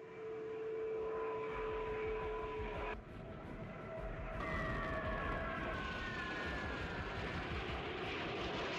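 MiG-15 fighter jets take off, their engines producing a loud, sustained roaring rumble with shifting whining tones that rises again midway, with no speech over it.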